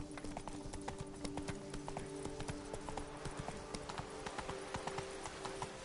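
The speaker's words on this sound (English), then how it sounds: "Come on, Roach." Horse hooves clip-clop steadily at a close, even rhythm as a horse trots or gallops across open ground in the video game The Witcher 3, with faint ambient background beneath and no voices.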